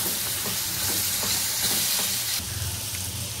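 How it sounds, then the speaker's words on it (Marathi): Chopped tomato sautés with onions and dried Bombay duck for a Puneri-style chutney, giving a dense, steady sizzling hiss with faint stirring taps, close-up and continuous. "टोमॅटो व्यवस्थित कांद्यामध्ये परतून घ्यायचा आहे।"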